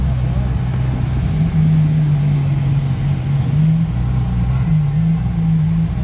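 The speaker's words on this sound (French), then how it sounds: "La Ferrari qui bouge les amis" Ferrari supercar pulling away on a Monaco street during a supercar show, a loud, close engine drone and rumble rising and falling slightly as it moves off, with a voice speaking over it.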